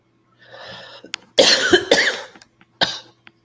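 A single close, hoarse cough erupts in a raspy burst, with a short throaty follow-up and faint breathy sounds around it.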